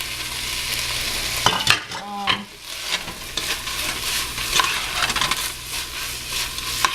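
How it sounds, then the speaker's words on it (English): A spoon stirs tomatoes into a rice and meat sauce in a saucepan, making a close, wet scraping and sloshing over a steady hiss, with a few clinks against the pot in between. "So right now I'm just gonna stir in the tomatoes."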